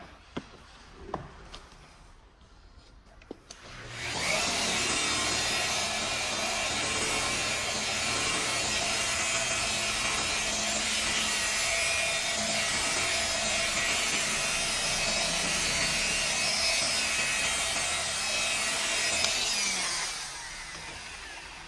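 Hand sanding of a repainted car panel with sandpaper, a steady, loud, continuous abrasive rasp lasting about seventeen seconds after a few quiet knocks, close up with no talking.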